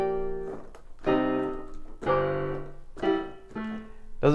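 Piano harmony, several chords struck together one after another at roughly one-second intervals, each ringing briefly before the next, fairly soft and alone.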